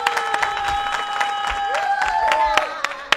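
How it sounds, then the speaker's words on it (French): An audience claps at a French comedy show, with sharp scattered hand claps over a sustained ringing musical tone and brief crowd noise for a few seconds. "On applaudit déjà pour Grasso."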